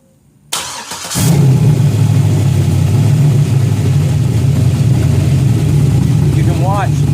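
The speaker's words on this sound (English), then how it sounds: "Start the engine." A Chevrolet LS V8 engine cranks briefly, catches and settles into a steady, loud idle close by, with a faint squeak near the end.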